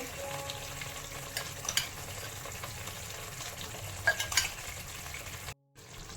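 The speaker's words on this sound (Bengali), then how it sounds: "এবার এর মধ্যে দিয়ে দেবো আলু। আলু দিয়ে দিচ্ছি।" Potatoes go into fried spice masala in a pan, sizzling softly and steadily close by, with occasional light clinks of stirring before the sound cuts off abruptly.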